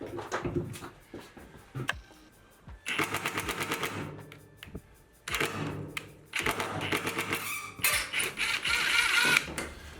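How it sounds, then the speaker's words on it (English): An impact driver works a bolt loose on a 2019 Mercedes Sprinter van. It gives loud, close bursts of rapid hammering rattle in several runs, with short quiet gaps between them. "So you're going to have to use an impact driver."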